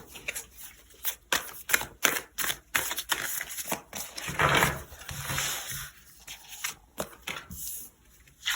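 Tarot cards being drawn and shuffled by hand, a run of quick crisp flicks and riffles with short pauses between them, close and fairly quiet, with no talking.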